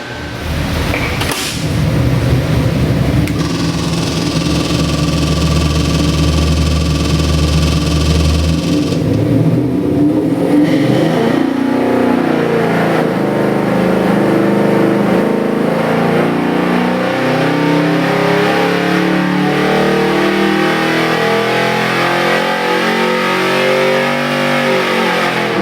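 A Chrysler (Dodge) 318 crate engine, rated at 350 horsepower, roars on a dynamometer, loud and sustained. It revs up hard and holds a steady high drone before the pitch sweeps and wavers as it winds through the pull.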